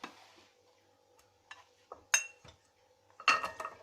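Washed dried apricots drop into a pot in a few soft, scattered clunks and clinks, ending with a louder clattering pour of fruit against metal.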